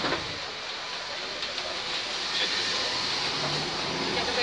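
A modernized Ganz KCSV7 tram rolls along the riverside line 2 in Budapest, heard from inside as a steady broadband hiss and rumble of wheels on rails with faint rhythmic clicks.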